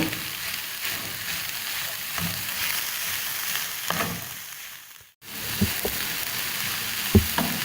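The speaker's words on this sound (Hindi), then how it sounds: "ग्रीन शिमला मिर्च और रेड शिमला मिर्च डाल दूंगी, और अब इसको अच्छी तरह से मिक्स कर लूंगी।" Green and red bell peppers stir-fried and tossed in a hot pan, a steady soft sizzle broken by scraping stirs and a brief pause before the frying resumes.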